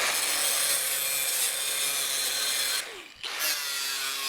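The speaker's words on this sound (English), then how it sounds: "So I'll get my grinder out over here with the cutoff wheel, and then we'll cut that again." An angle grinder fitted with a cutoff wheel cuts through a Harley Sportster steel fender, a steady loud whine that breaks off briefly near the end and then resumes, with no talking.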